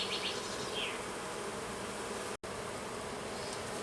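Honey bees hum in a dense, steady drone from an opened hive during an artificial swarm split, close and continuous, with a brief dropout midway and no voices.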